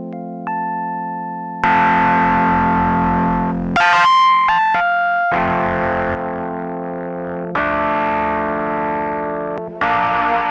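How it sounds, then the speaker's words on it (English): Stereo distortion effects pedal processing a synth-like tone, with sustained distorted notes and chords spread wide, shifting in several sections with choppy bursts around the middle, loud and continuous with no talking. "so now let's stereoize some distortion."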